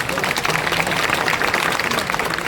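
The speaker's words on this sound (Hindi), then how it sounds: "उसके लिए तो तालियां बजाओ" A crowd at a political speech gathering claps in a continuous, fairly dense spatter of applause that holds at a steady level throughout, with faint voices mixed in.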